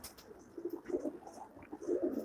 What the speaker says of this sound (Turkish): Şu an 250 tane güvercin var kardeşim.